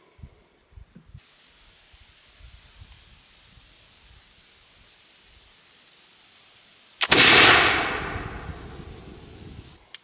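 A flintlock loaded with black powder fires after a pan flash: quiet handling noises, then one sudden loud boom that rings out and fades over a few seconds.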